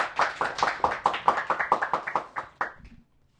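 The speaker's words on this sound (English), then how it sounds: "Let's give a huge round of applause to Jesse Singh." A small audience greets a comedian guest with clapping as he comes on, steady claps in a quick rhythm for a few seconds before cutting off abruptly into quiet.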